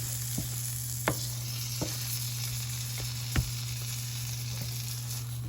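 Grilled cheese sizzling in butter in a pan: a steady, close frying hiss with a few soft knocks and scrapes from the pan being moved, heard alone.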